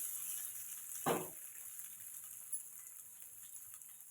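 Chopped green tomatoes drop into a hot pan for a Telugu-style gongura chutney and set off one short burst of hissing sizzle. A quiet, steady frying crackle follows.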